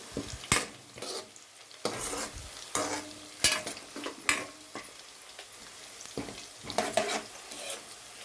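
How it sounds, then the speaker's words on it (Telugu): Sliced onions and green chilies fry in a pan while a spoon stirs them, making irregular bursts of scraping and clattering over a soft sizzle. Quiet between strokes, no talking. "బ్రౌన్ కలర్ వచ్చేదాకా ఆనియన్స్ అయితే కలుపుకోవాలి."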